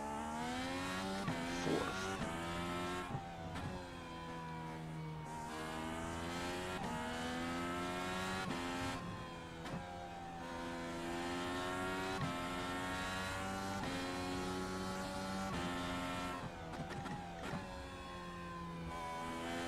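Race car engines in an IndyCar racing video game at Laguna Seca: several high engine notes climb and drop through gear changes, overlapping and droning steadily at close range with no talking.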